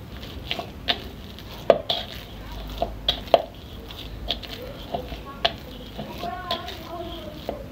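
Mandazi dough kneaded by hand, heard as soft squishing presses and occasional sharper taps against the surface in an irregular rhythm, close but fairly quiet.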